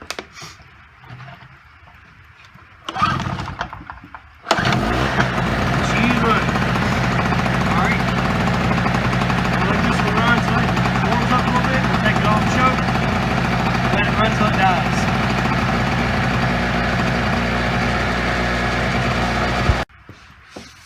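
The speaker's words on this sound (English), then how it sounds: "This is that Predator from Harbor Freight. It's it's a nice generator." A Harbor Freight Predator 2200 generator has its engine start up and settle into a steady, close running drone. It holds for about fifteen seconds before cutting off, after a few quiet knocks and handling sounds.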